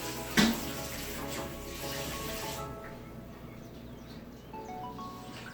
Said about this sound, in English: Put a little bit of water in there. I'm gonna swish it around.